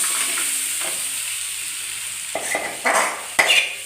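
Vegetables for vegetable biryani are stirred in a pot, a soft sizzle running throughout while a spoon scrapes and clatters against the metal in a few brisk, close strokes toward the end.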